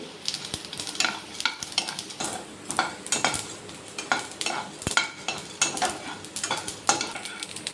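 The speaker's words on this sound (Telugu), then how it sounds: "జీలకర్ర టూ టేబుల్ స్పూన్స్ మెంతులు హాఫ్ స్పూన్స్ వేసి బాగా ఫ్రై చేసుకోవాలి" Cumin and fenugreek seeds fry in a pan with a constant crackling sizzle, scraped and stirred in quick repeated strokes, close and without talk.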